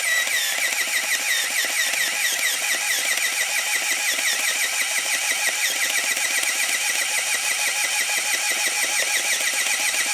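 A Zenit KM Plus film camera's motor whirs steadily as it rewinds the film, a loud, continuous mechanical buzz with no pauses or speech.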